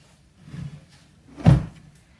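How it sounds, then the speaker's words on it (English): A broken, creaky door shifts in the wind, giving a soft knock followed by a louder thump with no voices. "the creaky door, I'm really sorry if it keeps making a lot of noise"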